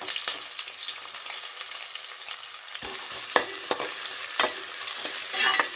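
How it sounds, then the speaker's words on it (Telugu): A spice tempering for tomato rice sizzles in a pan, a constant crackling hiss broken by several sharp scrapes and taps as it is stirred close up. "టమాటా రైస్కి పోపు అయితే వేసేసానండి."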